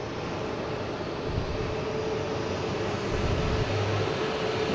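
An Alaska Airlines Boeing 737 MAX 9 arriving from Seattle at Boston Logan, a continuous loud jet engine roar with a faint steady whine, unbroken and without voices.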